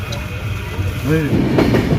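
The Darjeeling Mail, a general-coach service from Sealdah to NJP, pulls out of Dum Dum station at night and slowly gains speed. Its rolling rumble and wheel clatter sit close, with a voice speaking briefly over them.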